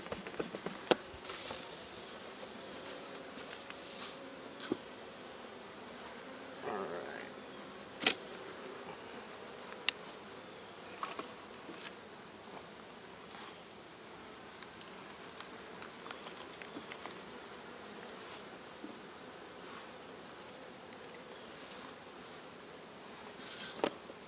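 Honeybees hum around an open hive during an inspection, a faint, steady buzz with scattered clicks and knocks of handling and no voices.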